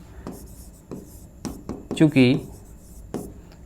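Chalk or pen scratches in short, separate strokes during a maths lesson, faint and intermittent, with someone speaking over part of it.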